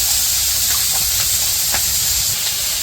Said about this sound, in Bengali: তো এই যে মাছ ভাজা হয়ে গেছে